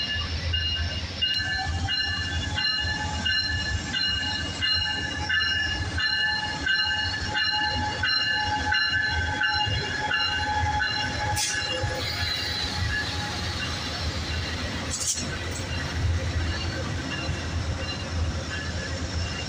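An Amtrak Pacific Surfliner passenger train rolls past close by at Los Angeles Union Station, with a steady rhythmic clatter of wheels over rail joints, a heavy rumble, and brief high squeals.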